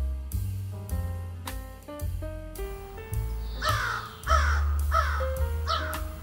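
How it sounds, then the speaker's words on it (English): A crow caws harshly several times in quick succession over a bouncy piano melody with a deep bass line. "Crow."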